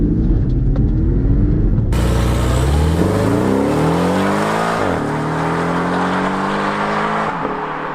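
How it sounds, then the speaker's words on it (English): A turbocharged Porsche 718 Cayman accelerates hard, its loud, close engine note climbing through the revs, dipping at a gear change, then rising again before easing off. "So does the new 718 turbocharged car sound good?"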